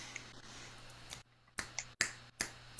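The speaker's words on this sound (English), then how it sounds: "The official finger snap." Finger snapping from a group at a Zen Buddhist Bodhi Day service, several sharp, scattered snaps in an irregular rhythm over a quiet room, some crisp and close, others softer.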